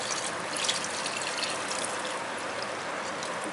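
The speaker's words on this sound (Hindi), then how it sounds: "हाफ लीटर के करीब मैं इसमें पानी ऐड कर रही हूँ" Continuous hissing rush of about half a litre of water pouring steadily into a cooking pot, uniform in level from start to finish.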